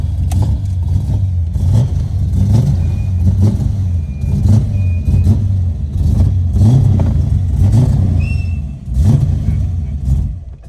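A Lexus IS300 with a swapped-in LS V8 rumbles loudly and steadily, its low engine note rising and falling in repeated revs as it accelerates, close to the microphone throughout.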